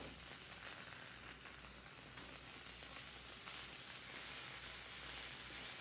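Biscuits frying in butter in a pan give off a steady, dense sizzle that holds at an even level throughout, with no voices over it.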